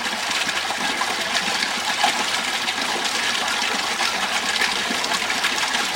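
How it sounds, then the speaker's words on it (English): A 70-watt pump pushes water through a homemade sieve pre-pump filter, producing a steady, loud rushing gush with a faint motor hum underneath, continuous and without talk. "That's a lot of water coming through there for 70 watt."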